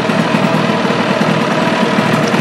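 A Yamaha two-stroke motorcycle engine with a power valve idles loud and close right after starting. It holds a steady, buzzing rumble with no talking over it.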